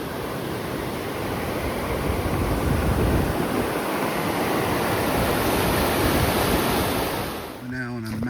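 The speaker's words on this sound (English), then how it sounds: "it's a bridge going over some very fast water." Very fast water rushing beneath a footbridge on a forest trail in Galloway, a loud continuous roar close by that fills the whole stretch before a brief voice breaks in at the end.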